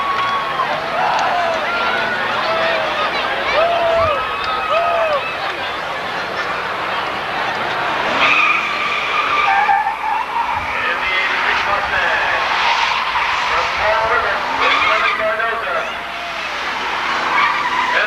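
A race car at a weekly Seekonk Speedway race screaming down the back straight, engine roar rising and falling with tire noise and a crowd behind, while an announcer commentates over it.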